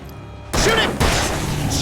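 Gunfire in a video game, with a sudden loud burst of rapid shots that breaks in after half a second of quiet, then a second heavy volley. An excited player's voice is mixed in.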